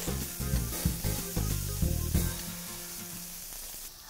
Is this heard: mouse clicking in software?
no